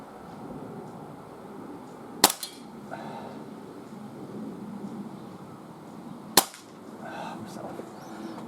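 A Gletcher Luger P08 blowback BB pistol fires two sharp, loud shots about four seconds apart, each with a quick mechanical clack of the action, over faint background noise at an outdoor range.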